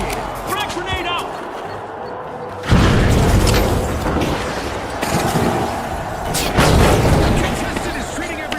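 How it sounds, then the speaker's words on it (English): A frag grenade exploding in the video game The Finals, a sudden heavy boom partway through followed by rumbling debris and a second swell of blast noise, loud and close, with speech in the mix. "Frag grenade out."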